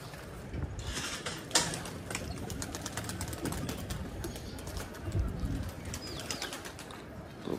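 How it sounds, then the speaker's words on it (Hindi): Pigeons in a loft, with soft coos, scattered wingbeats and shuffling against steady background noise; a few brief rattles and knocks of a door or cage are heard, with no talking. "अब कबूतर जी बंद करने पड़ेंगे"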